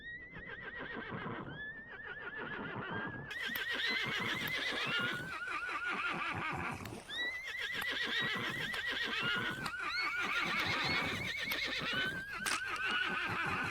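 Repeated horse whinnies and neighs in the video game Vintage Story, loud and close, overlapping one after another with some hoof clip-clop underneath.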